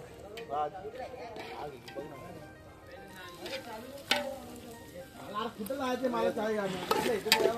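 Chopped tomatoes go into a frying pan and get stirred, with soft sizzling under repeated spatula scrapes and clinks against the pan while a person talks over the cooking.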